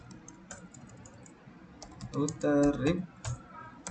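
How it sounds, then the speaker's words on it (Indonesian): Router configuration commands typed on a computer keyboard: light scattered keystrokes at first, then a quicker, louder burst of clattering keys near the middle, close and without speech. "Kita ketikkan router RIP"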